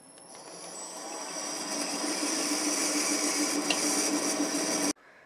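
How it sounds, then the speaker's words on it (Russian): MN-80 lathe boring a hole in a nut blank for an M33x1.5 thread, a steady grinding cutting noise with a faint whine that builds gradually and then stops abruptly near the end, with no talk. "сейчас расточу отверстие под нарезание резьбы М33 на полтора"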